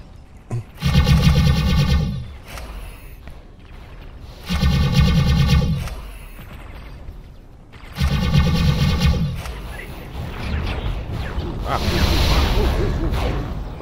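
Spaceship guns in the space game X4: Foundations, fired in three long rapid bursts of about a second each with short pauses between, loud and close, followed by a rushing, roaring wash of sound.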